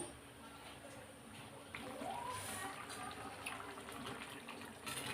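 A pot of keerai kara kulambu, a spinach and tamarind curry, boils on the stove with a steady, close watery bubbling and hiss that grows slightly louder partway through.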